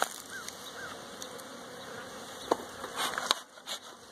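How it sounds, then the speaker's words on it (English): Steady, soft buzzing of a honey bee cluster under an inverted hive inner cover, a continuous insect drone with a few faint clicks and taps near the end. "And there's our little cluster of bees."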